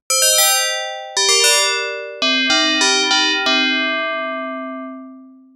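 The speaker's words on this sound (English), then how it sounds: "And now we have a simple bell sound." Simple FM-synthesized bell tones from the Tracktion F.'em synthesizer, a melodic sequence of bright metallic dings struck one after another, each ringing out and decaying, the last note sustaining longest.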